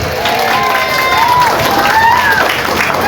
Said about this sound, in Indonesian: Berikan tepuk tangan untuk bangsa kita Indonesia.